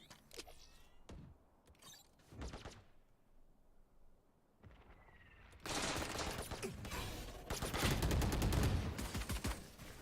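Scattered gunshots in a Valorant tournament match, sparse and faint at first, then a loud, dense stretch of rapid firing near the end.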